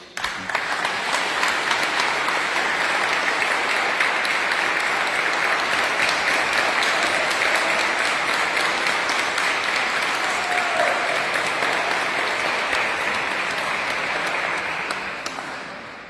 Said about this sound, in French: une belle main d'applaudissement pour Judith avec le son, avec ses chanteuses